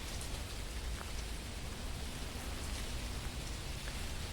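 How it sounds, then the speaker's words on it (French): Steady rain falls outside in the video game Phasmophobia, an even, continuous hiss of drops on surfaces with no talking over it. "même dehors il pleut, il fait 10 degrés"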